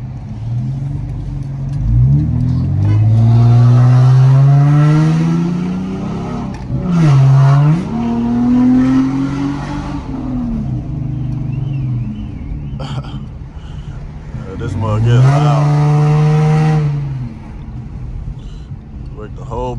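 A loud catless car exhaust on a 2008 car with scat pipes revs up repeatedly at night, with rising and falling engine pitch swells and crackling pops between pulls, close to the listener.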